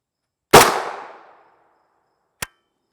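A single loud, close gunshot from an FN 5.7x28mm pistol firing a 40 grain bullet, a sharp crack with a ringing tail that fades over about a second, followed by a brief metallic click.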